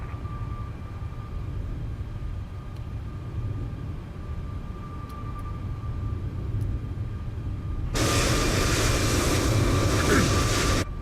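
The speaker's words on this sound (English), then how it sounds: "Aircraft taxiing behind us." A Boeing 737 taxiing in a flight simulator, a steady low engine rumble with a thin whine, then a sudden loud broadband roar near the end.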